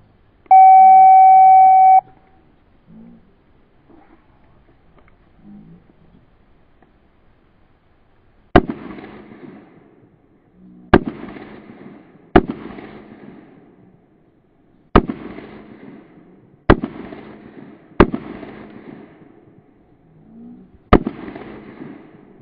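Pistol shots ring out at a practical shooting match stage, seven sharp reports spaced a second or two apart after an opening electronic timer beep, each shot decaying quickly with faint movement sounds between.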